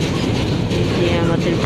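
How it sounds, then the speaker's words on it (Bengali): Steady rumble and rattle of a moving passenger train on a Bangladeshi rail journey, continuous and loud throughout from inside the carriage, with faint voices mixed in. "ট্রেনে উঠে পড়েছি"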